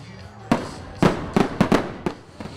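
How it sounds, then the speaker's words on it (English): Fireworks exploding at night, a series of about six sharp, loud bangs going off at irregular intervals with short echoing tails between them. "Several fireworks have been going off in the middle of the night."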